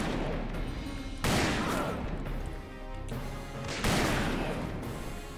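Gunfire in the Western shooter game Call of Juarez, two sharp loud blasts a few seconds apart, each followed by a booming decay, with quieter rumbling between them.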